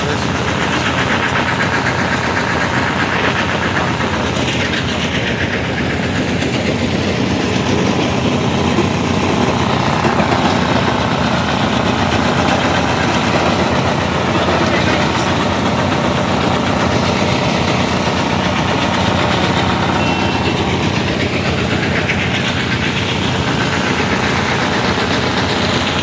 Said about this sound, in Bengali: ক্রাশিং মেশিন বিশাল বড়